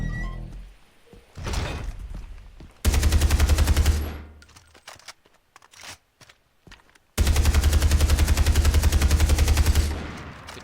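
Automatic gunfire in Far Cry 3 on Xbox 360, two long loud sustained bursts of rapid shots separated by a quieter stretch of shuffling game sounds.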